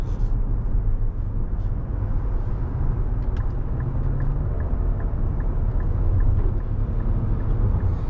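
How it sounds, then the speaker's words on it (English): A 2023 Nissan X-Trail e-Power driving at motorway speed, heard from inside as a steady low road and tyre rumble with wind noise and a faint regular ticking, continuous and even. "we're just coming onto the motorway here, so time to just see how the X Trail E-Force behaves at high speeds"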